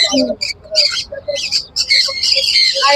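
Blue-cheek and blue pineapple conure parrots at a bird market in Baguiati, Kolkata, call in loud, harsh bursts of squawks and chirps, repeating irregularly and close by with no talking.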